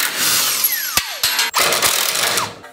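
Tools work on the rear shock bolts of a Harley motorcycle on a lift, with loud, close whirring from a power tool broken by sharp metallic clicks and clanks.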